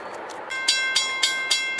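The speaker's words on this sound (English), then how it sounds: "Here comes Amtrak 52, the auto train." Amtrak Auto Train number 52 rolling past a trackside spot, a steady close rumble with regular rhythmic clicks of wheels crossing rail joints and a faint tonal whine throughout.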